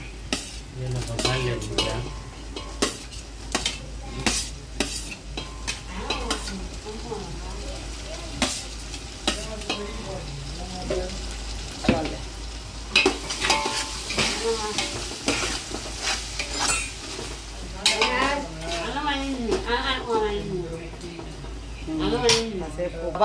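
Tomato with ginger paste stirred and frying in a pan over a low flame, a steady sizzle with repeated scraping and clinks of a utensil against the metal, while people talk over it throughout.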